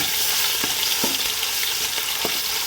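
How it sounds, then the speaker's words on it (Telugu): Ginger garlic paste fries in hot oil for a chicken biryani, giving a steady, close hiss of sizzling with a few soft scrapes of a spoon stirring through it, and no voices. "అల్లం వెల్లుల్లి పేస్ట్ ఈ మధ్యలో ఆయిల్లో వేసాను"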